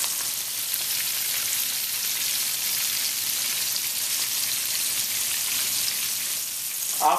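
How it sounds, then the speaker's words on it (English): Sardines pan-fry in hot oil over medium-high heat, giving a continuous, fairly loud, close sizzle and crackle that holds steady throughout with no voices. "the hot oil is nice and getting these bad boys golden and crispy on the outside"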